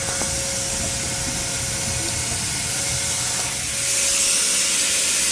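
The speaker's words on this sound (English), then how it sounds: "Turn off the vacuum, we're done." Steady loud suction hiss of a vacuum drawing water out of a boat's raw water system during winterizing, with a constant hum underneath and a rush that grows louder near the end.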